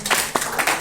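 A church congregation claps together in a short burst, several quick rhythmic rounds of applause close by, with no talk over them.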